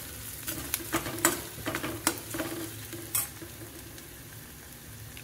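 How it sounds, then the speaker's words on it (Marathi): Chopped onions stir-fried in a pan until pink, with a low steady sizzle, a few sharp clinks of a spoon scraping the pan and no one talking. "आता कांदा परतवून झालेला आहे. गुलाबी रंग येईपर्यंत परतवला आहे मी."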